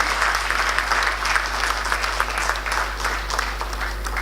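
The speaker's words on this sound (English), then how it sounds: "Please give him a big round of applause and welcome him." Sustained applause from a conference audience welcoming an award-winning filmmaker at an inauguration, dense, even clapping throughout over a low steady hum.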